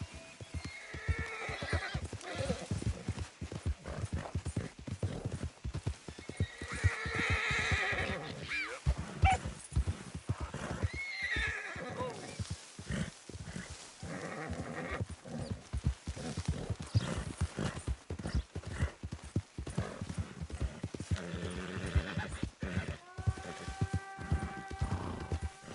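A horse gallops in Red Dead Redemption 2, its hooves clip-clopping in a steady rhythm with neighs and whinnies over them, loud and close throughout.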